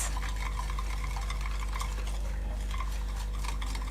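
Chocolate cake batter whisked after oil is added, a rapid, continuous clinking and swishing of a whisk or fork against a bowl, close and steady with no talking.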